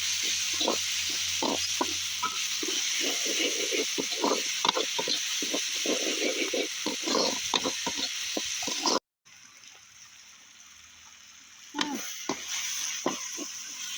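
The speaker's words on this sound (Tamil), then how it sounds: "கருவேப்பிலை கொத்து போட்டு நல்லா வதக்குவோம்" Curry leaves sauté in a pan for mutton thokku, a dense sizzle with repeated scraping stirs; the sound cuts out briefly, then returns as a softer fry before loud stirring resumes.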